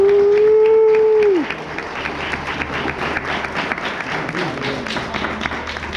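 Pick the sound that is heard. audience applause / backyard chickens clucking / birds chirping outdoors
audience applause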